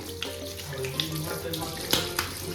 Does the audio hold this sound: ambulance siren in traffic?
no